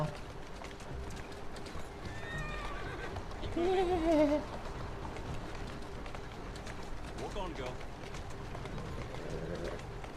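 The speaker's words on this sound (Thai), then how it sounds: "รถ รถม้ากำลังวิ่งมาเห็นไหมเนี่ย" A horse-drawn carriage gallops in Assassin's Creed Syndicate, with hoofbeats and rolling noise, a loud horse whinny in the middle, and people talking over the game sounds.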